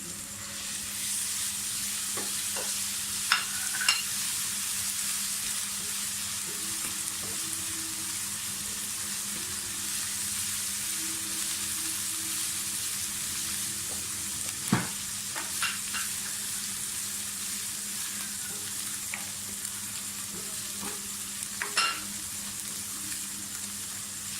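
Onion with garlic-ginger and green chili paste sizzles and fries steadily in a pan for a long stretch, with a few light clinks of stirring now and then and no talking.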